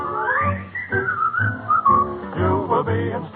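A whistled melody carries a song in a 1945 radio comedy show, a bright, tuneful line of sliding notes over a steady musical accompaniment.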